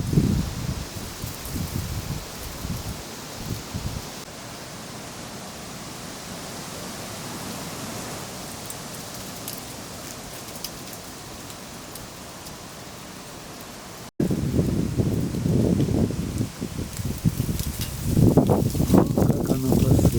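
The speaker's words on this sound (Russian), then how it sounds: "Осенний ветер гуляет, по веранде листья гоняет." Autumn wind gusts across a veranda, rustling and scattering dry leaves in a broad, noisy hiss, with bursts of crackling leaf movement at the start and again toward the end after a brief cut.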